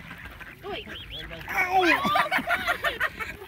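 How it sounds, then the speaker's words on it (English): Ducks quacking close by as they approach, a flurry of overlapping quacks and honk-like calls that grows louder midway, with people talking and exclaiming over them. "Oh no, the ducks are coming."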